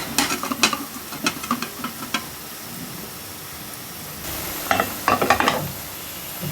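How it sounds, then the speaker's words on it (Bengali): Chicken fries in a pan, being browned until slightly charred, with steady close sizzling and a string of scraping stirring strokes that pause briefly and then pick up again. "একটু পোড়া পোড়া করতেছি ওর চিকেনটাও"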